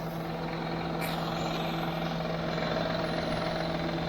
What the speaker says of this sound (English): So it's making some kind of pump noise, pulley noise.